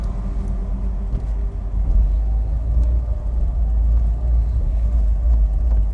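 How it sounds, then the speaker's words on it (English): A BX car drives off a ferry after a short crossing, its engine a loud, deep, continuous rumble that stays close and steady throughout, with no talk. "We are driving off the ferry"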